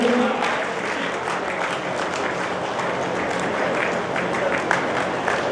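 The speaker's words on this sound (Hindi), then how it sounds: "आप सब लोग उतनी देर करतल ध्वनि से रजनीश सर का सम्मान करते रहें, क्योंकि तालियां बहुत आदमी को जोश देती हैं।" Audience applause fills an award ceremony honouring a senior district official, steady dense clapping from a large crowd throughout, loud and continuous with a brief hand-struck rise near the end.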